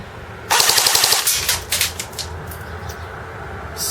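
CYMA Galil airsoft rifle, Cybergun licensed and running on an 8.4 volt battery, firing a sustained full-auto burst of rapid, evenly spaced shots, followed by a few shorter bursts, loud and close with no talking.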